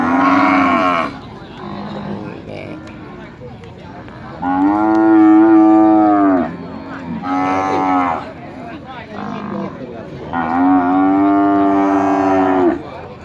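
Charolais cattle at a cattle and buffalo market in Nong Kung, Maha Sarakham, Thailand, give several loud, drawn-out moos in sequence, each a long harmonic bellow separated by brief pauses and lower crowd noise.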